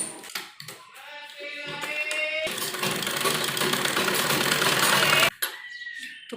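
Sewing machine stitching along the edge of buckram on an embroidered lining suit, a steady loud mechanical whir running for several seconds after a few short starts, then stopping abruptly.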